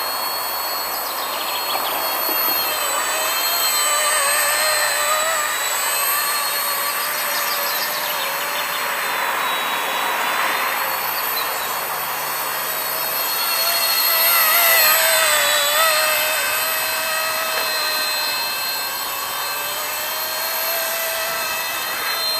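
A small Esky F150X RC helicopter flies nearby, its motor and rotors giving a steady high-pitched whine that shifts slightly in pitch and swells louder for a moment before settling again.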